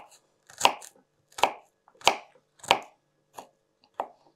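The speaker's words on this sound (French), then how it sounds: "je vais hacher mon ail le plus petit possible. Vous pouvez le faire au couteau" A knife chopping garlic cloves on a cutting board, six crisp separate strikes at a steady unhurried pace, close and clear against silence.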